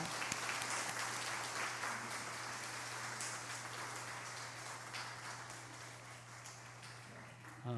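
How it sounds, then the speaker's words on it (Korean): A church congregation applauds a newlywed bride and groom as they stand, a soft, distant, rain-like patter of clapping over a steady low hum, ending abruptly. "자리에서 일어나면 우리가 박수로 축하하도록 하겠습니다"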